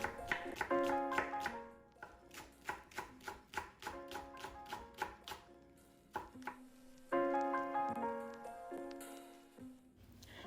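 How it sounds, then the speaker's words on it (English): A knife slices through seven or eight green onion stalks on a board, producing a quick run of crisp, even chops, then a pause and a second burst, close and fairly quiet. "you're just gonna slice them down"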